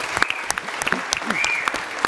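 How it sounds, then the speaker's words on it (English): An audience at a political party's final leadership debate claps for the candidates, a brief burst of dense, close applause with a few sharper claps standing out. "give every candidate here a round of applause, please."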